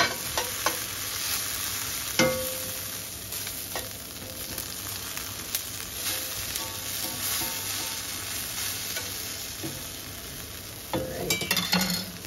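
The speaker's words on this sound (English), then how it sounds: "The black wrought iron frying pan with the heat up." Food sizzles steadily in a hot black wrought iron frying pan, a loud, continuous crackle with occasional clinks and scrapes as the pieces are stirred and moved around.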